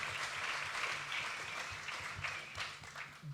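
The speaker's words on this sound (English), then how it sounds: "Let's give our panelists a round of applause" An audience applauds the panelists at a Proposition 1 debate at The North Door in Austin, Texas, with dense, sustained clapping filling the room for a few seconds.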